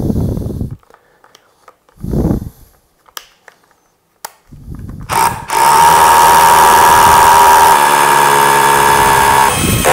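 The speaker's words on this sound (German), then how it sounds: "Ihr bohrt einmal im Beton vor." Short bursts of machine noise with pauses, then a loud, steady high-pitched drilling into concrete that runs without a break to the end.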